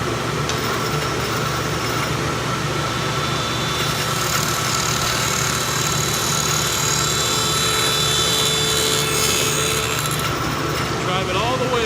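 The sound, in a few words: woodworking machine running at full speed cutting rabbet and dado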